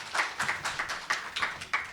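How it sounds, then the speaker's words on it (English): A small round of clapping for conference panelists, distinct close claps in an irregular rhythm, fairly quiet and with no voices over it. "Can we have a round of applause for our panelists?"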